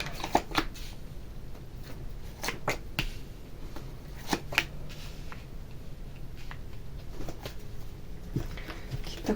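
Tarot cards being shuffled by hand in a series of crisp riffling bursts and soft flicks, fairly close and clear, with scattered pauses between bursts over a quiet room background.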